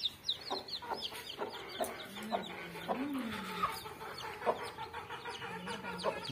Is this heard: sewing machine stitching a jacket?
no